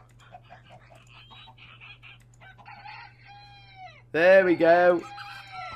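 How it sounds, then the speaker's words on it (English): A Minecraft rooster crows loudly and near, a strong harmonic call bursting out after quieter game sounds and a brief spoken remark, over a steady low hum. "Chicken rooster."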